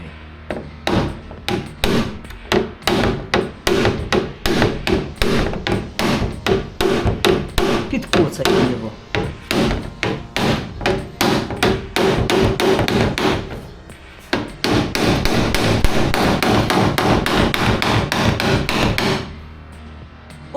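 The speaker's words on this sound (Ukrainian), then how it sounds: "Таким пластмасовим молоточком." A plastic mallet hammering on an MG car's bonnet in rapid, repeated hollow knocks, close and loud, pausing briefly partway through before resuming.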